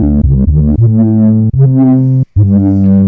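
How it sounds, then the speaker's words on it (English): A gritty synth tone from an IK Multimedia Uno, overdriven by its filter drive, playing a short melodic phrase of sustained notes, loud and close, with a brief dropout near the end. "then when you bring the drive in, you can hear the distortion"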